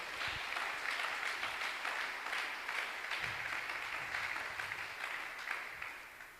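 Congregation at a French-language church service clapping loudly and steadily for several seconds, a dense continuous applause with scattered brighter claps, no talk over it.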